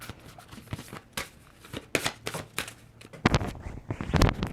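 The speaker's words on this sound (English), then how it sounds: "We'll give it 2 or 3 more shuffles" Tarot cards being shuffled by hand, a run of crisp riffling and slapping bursts in irregular rhythm, close and fairly loud, growing busier toward the end with no talking.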